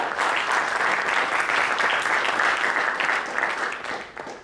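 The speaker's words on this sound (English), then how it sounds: "an applause, I think." Steady applause from a conference audience after a talk, sustained clapping that continues throughout and then begins to thin out at the end.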